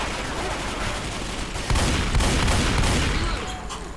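Dense, continuous gunfire with booming impacts, a loud Left 4 Dead 2 battle that grows heavier midway and keeps a steady roar throughout.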